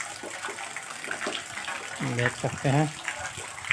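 Water from a village tap runs in a steady hiss beneath people talking in Hindi, fairly close and continuous throughout.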